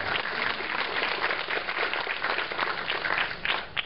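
A crowd at a television festival Q&A breaks into steady, fairly loud applause, continuous dense clapping throughout with no talking.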